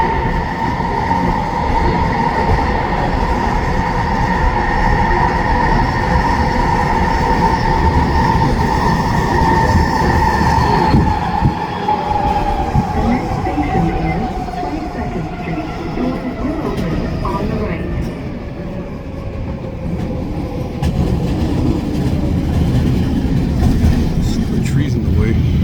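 SkyTrain shop train made up of cars 3900, 106 and 121, passing near 22nd Street station in New Westminster, BC: a steady loud rolling rumble with a sustained whine that slowly falls in pitch, continuous throughout.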